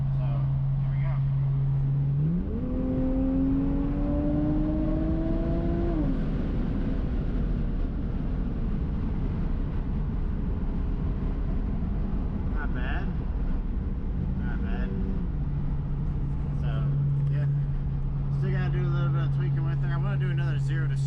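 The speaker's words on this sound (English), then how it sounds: "we're gonna give her a little bit of some gas here and see what she does" BMW 335 with the N54 engine, after intake valve cleaning, idles steadily, then its revs climb under throttle for a few seconds before settling back to a smooth idle, heard up close.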